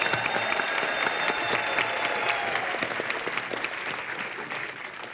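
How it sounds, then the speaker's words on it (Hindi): A television comedy show studio audience applauds steadily, dense clapping filling the whole stretch and tapering slightly toward the end. "इनके लिए जोरदार तालियां हो जाए।"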